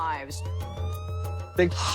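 An ambulance siren wails as it rushes Brittany Murphy to Cedars-Sinai hospital in Hollywood, a rising, cycling tone close by with voices briefly over it.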